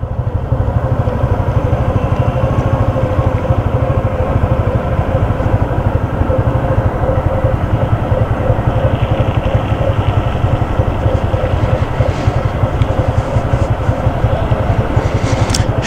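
A motorcycle engine drones steadily and loudly on a sloping hill road during a tour of Sajek, its rumble continuous and close throughout with no talking.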